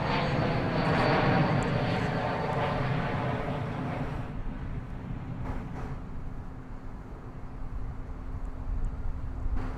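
An Airbus A321 jet arriving at DFW airport rumbles loudly at first, then fades over the next few seconds into quieter background noise.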